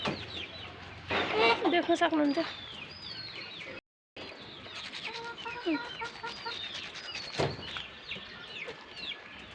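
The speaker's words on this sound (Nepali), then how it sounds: "यहाँ छ कुखुरा, कुनै कुनै त भुइँमा पनि चढिरहेछ" Chickens on a farm cluck and call repeatedly at close range, with a brief silent gap partway through, while a person speaks over them.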